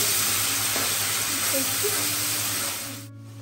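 Prawns fry in hot oil for a Bengali malai curry, giving a loud, dense sizzle with a steady hum beneath. The sizzle fades sharply near the end.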